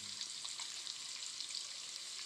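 Curry leaves and dried red chillies fry in hot oil, a steady, soft crackling sizzle close by with faint scattered pops, no voices.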